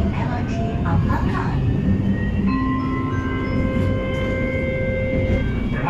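A Kuala Lumpur LRT Ampang Line train standing at the Ampang terminal station, with a low rumble and sustained tonal whines and hums from the train and station, and a voice announcement over the noise.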